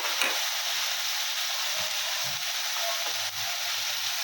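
Half a kilo of mutton sizzling and frying in a hot pan while being stirred, a steady close hiss with occasional soft scraping strokes of the spoon, no talk.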